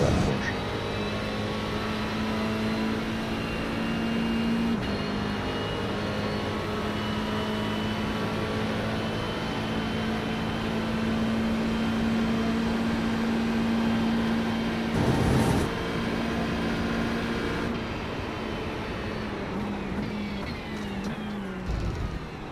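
A BMW race car in the iRacing sim at Spa holds a steady, loud engine drone with a faint pitch shift partway, running continuously with no pauses.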